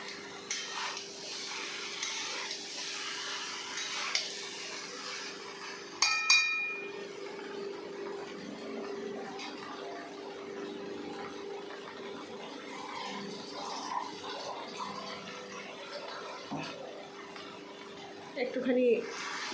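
Vegetarian jackfruit curry being stirred and sautéed in a pan over low gas, with faint clinks of a utensil against the pan and soft sizzling, quiet and close, under occasional talk.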